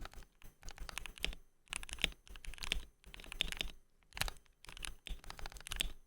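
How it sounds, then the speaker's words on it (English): Typing on a KVD67 Lite R3 keyboard with lubed Ink Black switches, close up: quick bursts of crisp, clacky keystrokes broken by short pauses. "main keyboard of choice is a KVD67 Lite R3 with ink black switches"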